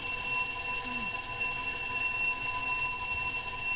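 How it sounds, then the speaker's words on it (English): A fire alarm sounds steadily throughout, a continuous high electronic tone with harmonics heard at a distance behind a low background rumble, with no talk over it. "Sounds like we have a fire alarm"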